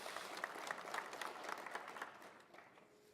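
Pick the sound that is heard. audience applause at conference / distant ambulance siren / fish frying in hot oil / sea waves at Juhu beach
audience applause at conference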